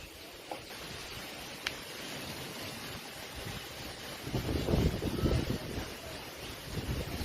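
Strong wind blows outdoors ahead of an approaching cyclone: a steady, fairly faint rush with a few soft knocks and a stronger gust building midway.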